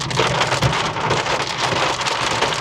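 Steady, heavy rain pours down on Samundri Road in Faisalabad, a dense continuous hiss of drops striking surfaces, loud and close with no voices.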